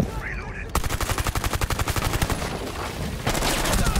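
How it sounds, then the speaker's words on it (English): Sustained automatic gunfire from Rainbow Six Siege on the Consulate map, a rapid regular burst of close, loud shots lasting about two and a half seconds, then a denser spray of fire toward the end. "someone's shooting from upstairs"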